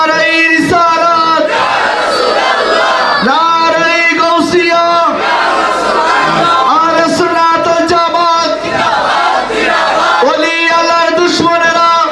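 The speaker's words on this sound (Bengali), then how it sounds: "জোরে বলে নারাই তাকবীর আল্লাহু আকবার" A large crowd loudly chanting the takbir "Allahu Akbar" in repeated unison bursts at a rally, the shouts overlapping and sustained throughout.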